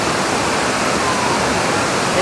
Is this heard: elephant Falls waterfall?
yes